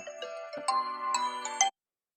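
A phone alarm rings indoors with a bright, tonal electronic melody made of repeated chime-like notes. It plays at moderate volume for under two seconds and then cuts off abruptly.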